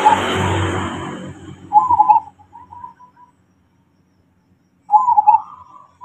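Two rhythmic cooing phrases from a zebra dove, soft trilled notes repeated a few seconds apart, close and clear after a short burst of noise at the start.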